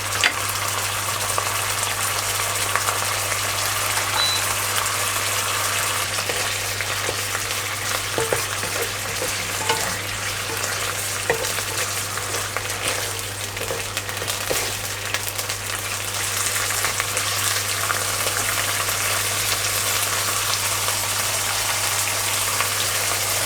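Pork belly stir-fried with red curry paste gives a steady, dense sizzle and crackle that runs unbroken and close throughout, with occasional faint clinks of stirring and no talking.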